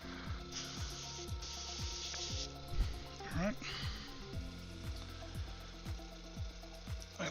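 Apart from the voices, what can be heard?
airbrush compressor running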